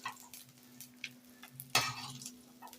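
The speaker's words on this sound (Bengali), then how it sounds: "সেই তেলেই কিন্তু আমি আলুটা ভেজে নিচ্ছি।" Potatoes fry in oil with a soft, quiet sizzle, punctuated by light ticks and clinks of a utensil and one sharper burst of crackling midway, with a faint steady hum underneath.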